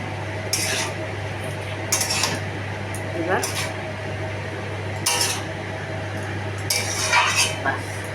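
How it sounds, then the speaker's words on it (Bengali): A metal spoon scrapes and clinks against a pan while cumin powder is stirred into a cooking dish, several sharp taps and scrapes over a steady low hum, with faint talk in the background. "এই জিরার গুঁড়োটা দিলাম, দিয়ে একটু নাড়াচাড়া করে"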